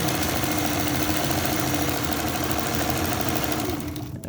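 A Kenmore 1813 sewing machine runs a 4 mm wide satin stitch with a continuous, fast mechanical whir and rhythmic needle chatter, close and loud, slowing and fading slightly at the very end.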